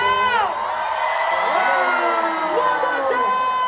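Concert crowd at an SB19 show in Doha shouting and cheering together, a dense continuous roar of voices with rising and falling whoops throughout.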